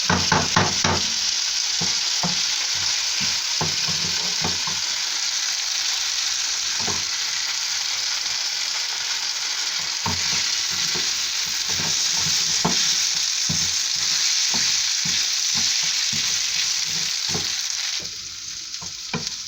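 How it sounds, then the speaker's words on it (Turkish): Rice sautéed in a pot for pilaf, with steady sizzling and frequent scraping strokes of a spoon against the pot bottom, close and continuous for the whole stretch, no talking. "Pirincimizi ne kadar kavuruklarsak pilavımız o kadar tane tane ve güzel olacak."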